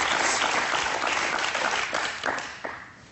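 An audience bursts into loud sustained applause, many hands clapping at once, gradually thinning out toward the end.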